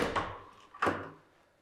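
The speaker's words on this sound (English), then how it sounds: "We're going to go through this door." A door in a house opens with two woody knocks and clunks, a short pause between them, heard close in a quiet room.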